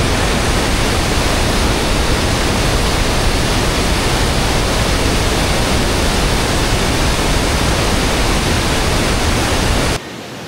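Rain-fed water tumbling over Athirappilly falls in Kerala makes a constant broadband roar, loud and unbroken, before cutting off abruptly just before the end.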